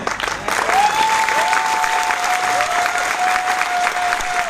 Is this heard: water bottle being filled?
no